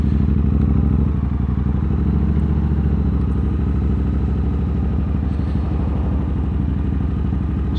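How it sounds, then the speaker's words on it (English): A Triumph Bobber motorcycle engine holds high, steady revs that refuse to drop, a loud continuous throbbing hum with a rapid pulsing rhythm and no talk over it. "See, look, it's just not dropping down them revs."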